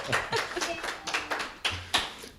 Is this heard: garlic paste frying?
no